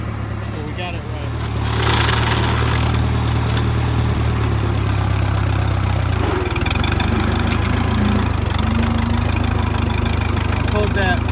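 The diesel engine of a Minneapolis Moline Jetstar 3 tractor idles and then revs up into a steady, loud, low rumble during hay cutting, heard close with a faint voice briefly over it.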